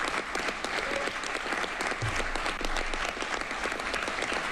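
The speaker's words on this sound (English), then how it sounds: "The room erupts in applause." A room full of people bursts into sustained applause at a live crypto event, dense steady clapping with a few cheers running evenly from start to finish.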